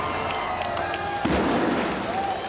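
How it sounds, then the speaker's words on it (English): Fireworks burst over a Disneyland wedding near Sleeping Beauty Castle, a sharp boom followed by crackling and rumble above a steady murmur of crowd noise. "Fireworks."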